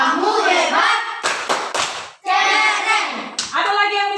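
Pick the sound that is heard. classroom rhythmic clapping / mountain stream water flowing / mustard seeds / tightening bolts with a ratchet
classroom rhythmic clapping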